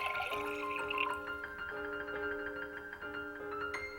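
Water is poured from a glass in a thin, steady stream, with faint ringing tones that rise as it runs. The sound is quiet and close, and no one speaks over it.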